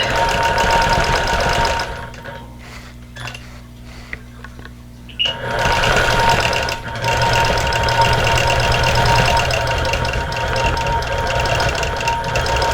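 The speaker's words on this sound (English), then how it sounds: "now I'm going to stitch in the ditch around the circle" A sewing machine quilts a table runner, stitching around a circle with a loud, fast, rhythmic chatter that stops for a few seconds and then starts again.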